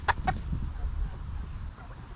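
Backyard hens, including a Wyandotte, cluck nearby: a couple of sharp, close clucks at the start, then quieter scattered murmurs over a low background rumble.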